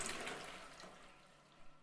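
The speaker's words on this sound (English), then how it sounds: "we gotta flush that monster down" A toilet flushing in a video game, a short faint rush of water that fades out quickly.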